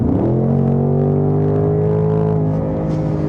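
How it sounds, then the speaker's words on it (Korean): Seventh-generation Ford Mustang GT, 5.0 naturally aspirated V8 with sport exhaust on, gives a loud, deep, steady exhaust rumble close by, rising slightly in pitch at first and then holding a smooth drone. "이곳에서 스포츠 배기 사운드를 활성화시키면"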